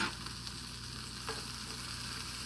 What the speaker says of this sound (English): I'm going to let that saute together.